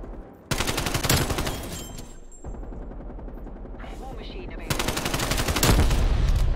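Rapid automatic gunfire in Call of Duty Black Ops Cold War, loud bursts of rattling shots separated by a quieter stretch of distant gameplay noise.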